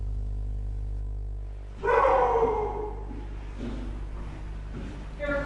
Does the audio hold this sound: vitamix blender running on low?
no